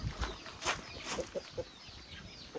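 A chicken clucks nearby in a series of short, soft clucks, spaced irregularly over faint background noise.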